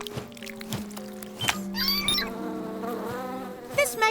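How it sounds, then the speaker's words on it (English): Cartoon bees flap their wings in a honeycomb, a buzzy, warbling flutter that rises and wavers over a steady low hum, with a few bright chirpy accents near the end. "flapping our wings is how we make thicker honey"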